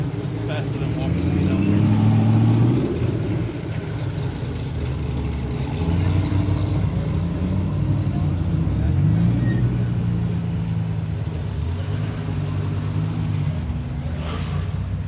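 A car engine revving at a Coffee and Cars meet where cars roll in, a low rumbling drone that rises and falls, with people talking and calling out over it nearby.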